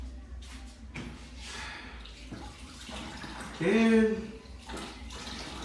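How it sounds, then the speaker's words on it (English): Hands are washed under a running kitchen tap, a steady close wash of water with brief splashing swells and a short squeaky rub midway, while a voice speaks briefly. "wash my hands"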